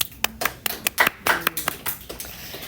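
A small classroom group gives a brief round of applause for a student: a handful of distinct, uneven claps that come in sparse bursts, close by, then thin out.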